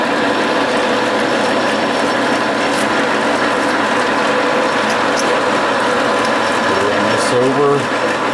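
A hand-cranked press punch mechanism spins with a steady, dense mechanical whir and ratcheting clatter, close and continuous, with a slight wobble near the end.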